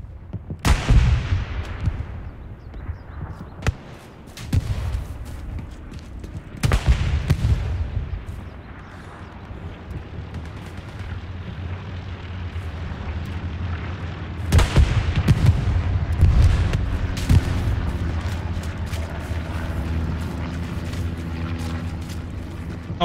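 Tank cannon fire in the Hell Let Loose video game as friendly armor engages a Sherman tank: a few heavy booming shots with rumbling echoes over continuous battlefield din, loud and close.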